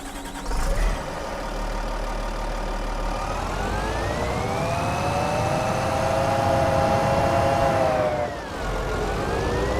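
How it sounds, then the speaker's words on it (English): A JCB machine engine in the Farming Simulator 25 video game drones loudly and steadily, its whining tone rising in pitch as it revs, then dipping briefly near the end. "Man, JCB's loud."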